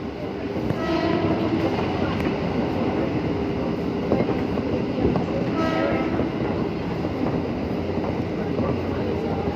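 A JR203 commuter train runs on the rails of the Tanah Abang–BSD line near Kebayoran station, a continuous close rumble and rattle of carriages with brief horn-like tones rising partway through.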